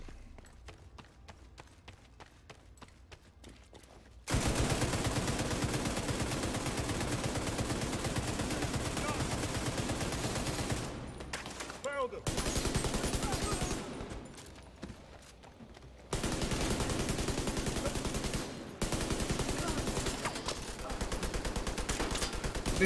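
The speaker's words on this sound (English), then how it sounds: "This auto rifle is a beast. It rips through enemies so quick." Auto rifle fire in the video game Division 2 rattles out in long, dense sustained bursts, loud and continuous, broken by a few short gaps and preceded by lighter scattered shots.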